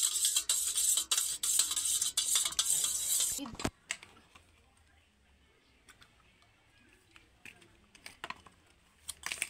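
A spoon stirring a light green ice cream mixture made with Pulse chocolate in a container, giving quick repeated scraping clicks that are busy at first and then thin out to sparse, quieter taps.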